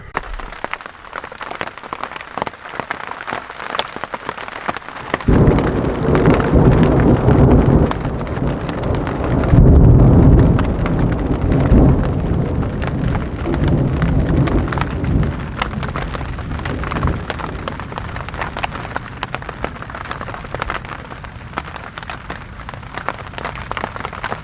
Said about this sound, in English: I don't know what time the thunderstorms stop